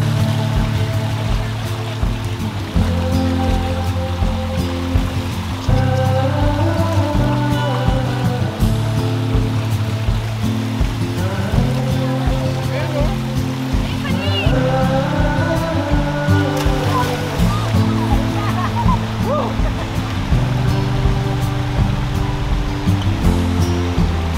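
A river at Ambalangan Dalen, San Fabian flows over rocks in a steady, close rush of water. Background music plays throughout.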